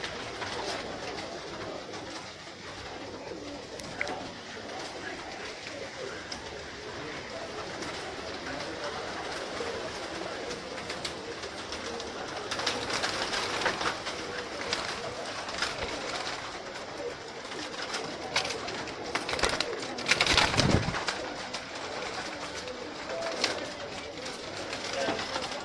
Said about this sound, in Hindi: चंद जोड़िया का शौक करवा रहे हैं, कुछ गेज बड़े कबूतर के।